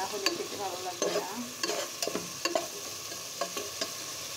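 Spice masala being stirred and fried in oil for biryani, a soft sizzle under irregular scraping and clinking strokes of a spoon against the pan, quiet and close.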